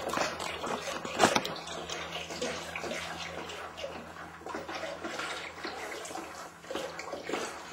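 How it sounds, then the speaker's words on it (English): Lime is stirred into water in a bucket for soapmaking, giving a continuous close sloshing and swirling of liquid with an irregular rhythm and a sharper splash or knock near the start, no talk. "I'm just stirring in the lime and mixing it up"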